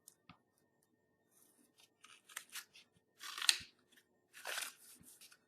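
Scissors snip through recyclable material for a holiday wreath, making a few faint crisp cuts and then two louder crunchy snips, close and quiet.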